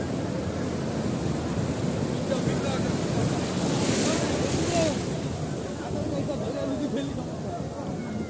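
Sea waves roll and break at Sugandha Beach in Cox's Bazar, a continuous loud wash of surf with wind buffeting the microphone and voices faintly underneath.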